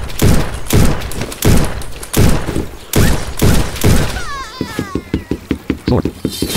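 Rifle fire in the audio game Battlefield 2D: several loud, booming single shots spaced about a second apart, then a fast, sharp run of rapid shots at the end.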